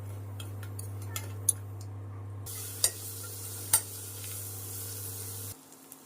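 A big spoon stirs frying food in a pan, giving a soft steady sizzle broken by a few sharp metallic scrapes and taps, close and fairly quiet, with no talking.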